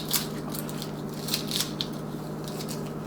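Onion skins being peeled by hand, garden-grown onions, with faint papery crackles and tearing bursts over a steady low hum, close and quiet.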